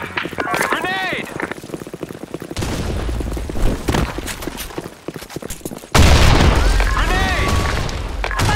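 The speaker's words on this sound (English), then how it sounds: "Grenade!" Grenade blasts and gunfire in the online shooter BlackShot, with two heavy booming bursts that each launch a long, dense stretch of crackling fire, set among game voice callouts and effects.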